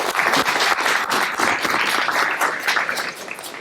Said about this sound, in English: So I want to give them a round of applause real quick